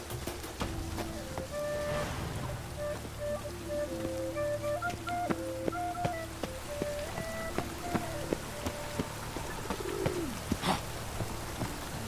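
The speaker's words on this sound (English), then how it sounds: "Lots of fuss over lots of rain." Steady rain patters and drips on surfaces in The Witcher 3 video game, with soft cooing birds and a few higher calls blending into the wet ambience.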